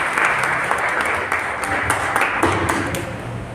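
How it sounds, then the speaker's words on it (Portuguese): A church congregation claps together during a worship service, a dense, steady wash of applause filling the room for a few seconds with faint voices mixed in. "As palmas para o Senhor."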